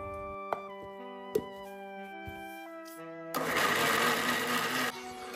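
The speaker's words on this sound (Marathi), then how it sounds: "शाबूस तांदूळ भिजवलेलं मिक्सरवर चांगलं बारीक करायचं आणि पेस्ट करून" Soaked sago in a mixer grinder being ground into paste, with a loud, dense grinding whir lasting about one and a half seconds, set against a background of steady tones and a few clicks.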